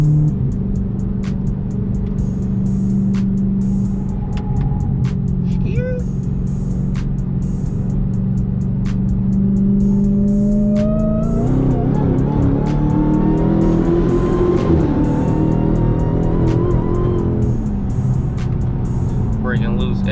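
Engine of a Dodge Hellcat rumbling steadily as its tires break loose during donuts, the revs climbing and wavering in the second half with faint squeal, while someone talks over it.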